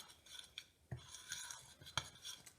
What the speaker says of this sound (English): I'll just give it a wee stir all together